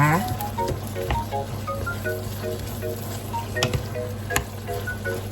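Mushrooms frying in a pan with red paprika sauce give a steady close sizzle with scattered pops and light stirring taps, under a constant low hum.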